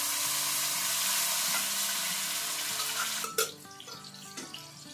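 Ground tomato, onion, ginger, garlic and green chili masala hitting a hot pan for fish curry, giving a steady loud sizzle that drops abruptly near the end, followed by a softer ongoing fry with a few stirring clatters.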